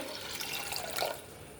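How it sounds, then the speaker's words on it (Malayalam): Water poured into a pressure cooker holding lentils, a soft continuous splashing pour at moderate distance with no voices. "ഇത് വേകാനുള്ള പാകത്തിന് വെള്ളം ഒഴിച്ചിട്ട്"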